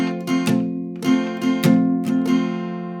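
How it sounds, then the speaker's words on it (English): Acoustic guitar strummed in a slow pattern with palm-muted down strums, a handful of chord strokes in an uneven rhythm, close and clear with ringing upstrokes between the muted hits. "So for this pattern with a palm mute, it'll sound like this."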